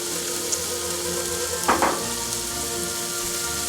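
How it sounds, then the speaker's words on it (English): Sliced onions sizzle in a hot pan for a French-style beef stew, a constant close frying hiss with one brief louder crackle partway through. "I'm going to add the onions."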